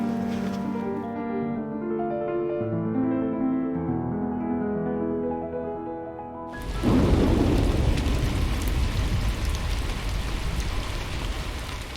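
A musical passage ends abruptly and heavy rain takes over, pouring loudly and steadily with a deep thunder rumble underneath.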